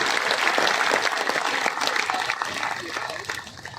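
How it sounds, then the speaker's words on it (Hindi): A crowd at a BJP political rally in Thanagazi, Alwar, breaks into loud, sustained applause to welcome the party's state president, the dense clapping filling the space with voices mixed in beneath it. "मैं चाहूंगा कि जोरदार तालियों से नायब जी का स्वागत करें।"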